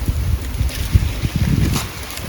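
Strong wind gusts buffet an outdoor microphone during wild giant honeybee nest harvesting, with low rumbling blasts rising and falling throughout, loud and close.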